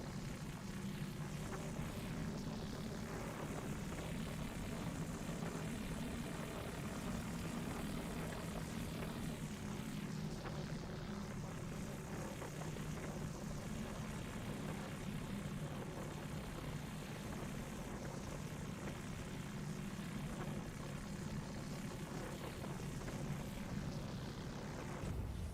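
An ornithopter flying in the Dune video game, a steady droning engine hum with a whirring, propeller-like texture that holds constant and fairly faint throughout without speech.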